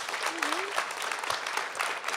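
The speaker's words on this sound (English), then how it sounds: "I give her a round of applause" An audience applauds Topeka Sam at a panel event on justice and decarceration, with dense steady clapping throughout and a brief voice rising over it.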